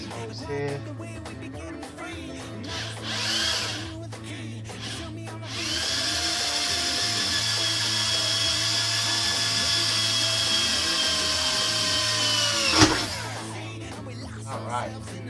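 A 3.5 mm bit bores holes into a metal Pedaltrain Classic Jr. pedalboard frame to mount a Cioks DC5 power supply; the steady, loud whine of the power drill runs for several seconds, then winds down abruptly.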